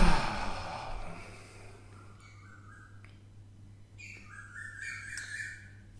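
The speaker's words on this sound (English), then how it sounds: "Do you hear the birds?" Several birds call outdoors, with scattered short chirps and squawks at moderate distance over a steady low hum, growing busier toward the end.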